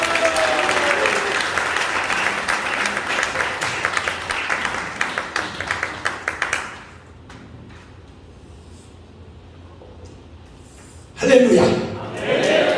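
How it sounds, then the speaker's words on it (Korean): Applause from a church congregation at a Korean revival meeting in the Philippines, steady dense clapping for several seconds that cuts off, then a short loud burst near the end. "우리 박수로 맞으시죠"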